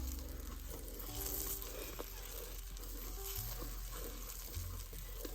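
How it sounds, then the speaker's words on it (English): Butter browning in a pan on the stove for fudge gives a steady, soft foamy sizzle, fairly quiet and continuous, with faint bubbling and no voices. "This is how you brown butter, right there."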